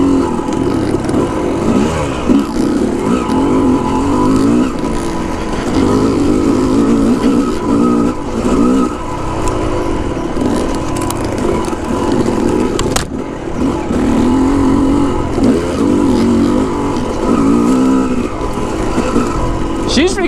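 Yamaha YZ dirt bike engine ripping along a forest trail, a loud rasping drone that surges and drops with throttle, continuous and close, with riders' voices over it.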